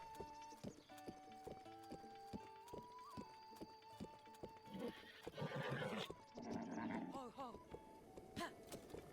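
Horse in the video game Breath of the Wild neighing and whinnying, with hooves clip-clopping in a steady rhythm under game ambience; fairly close and moderately loud.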